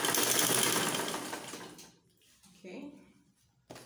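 A sewing machine stitches down a side pocket in a fast whirring run that fades out, followed by quieter handling noises and a short clack at the end, with a voice briefly present.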